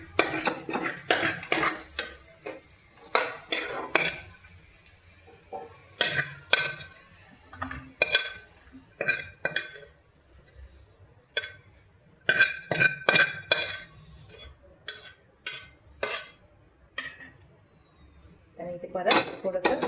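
Cooked aloo matar paneer upma scooped from a pan onto a plate, with clustered metal spoon scrapes and clinks against cookware arriving in bursts separated by quiet gaps, close by.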